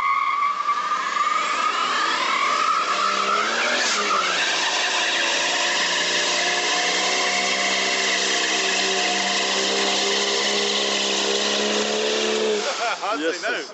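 Modified Lada Niva fitted with a Toyota Supra 2JZ 3.0 inline-six engine, a loud sustained high-revving engine wail with tire squeal while skidding, pitch rising then holding steady, close and dominant.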